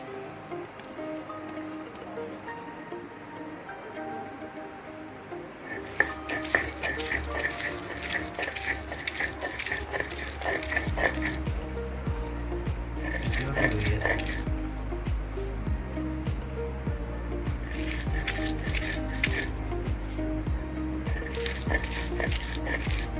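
Dry fish is pounded together with onion, chili and garlic in repeated bursts of scraping and grinding. The strokes come in clusters of several seconds each, separated by pauses, over a continuous tonal background.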